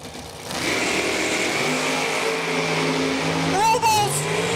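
Drag racing car engine revving at Numidia Dragway during a Labor Day Nationals burndown, a steady loud drone with rising pitch sweeps near the end, crowd and announcer talk underneath.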